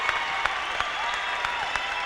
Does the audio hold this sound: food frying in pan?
no